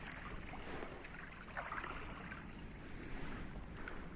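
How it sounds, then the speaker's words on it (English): A gust of wind blows across open water while kayaking on Lake Washington, a steady rushing noise with mic buffeting and light lapping of water, no talk. "Oh yeah, a little gust now."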